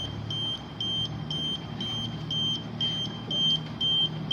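A motorcycle security system's alarm buzzer, triggered by a vibration sensor, sounds a steady high-pitched electronic tone with repeated short beeping pulses over a low background hum.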